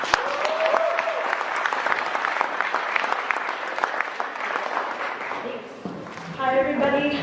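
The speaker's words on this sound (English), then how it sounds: "Please give her a warm round of applause." Sustained, dense audience applause fills a spotlight event hall, steady and full for several seconds before tapering, with a voice beginning to speak at the end.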